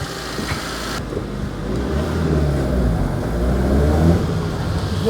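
A Proton Satria car rolls down a driveway, its engine rumbling near and steady, building gradually louder with a faint hum of revs as it moves.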